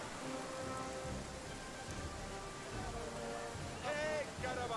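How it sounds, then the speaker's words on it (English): Heavy rain in the fantasy role-playing game Pathfinder: Kingmaker, a constant hiss of downpour under faint game sounds, with someone talking over it. "That's raining pretty hard."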